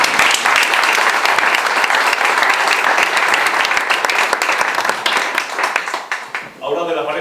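A loud, sustained round of applause from a crowd at a presentation, dense clapping filling the room, with a voice briefly heard as it winds down at the end.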